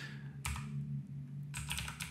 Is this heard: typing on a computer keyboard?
yes